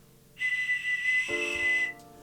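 A single high whistle is blown in a post-apocalyptic sci-fi MMO game, a steady shrill tone lasting about a second and a half, loud and close with no other sounds.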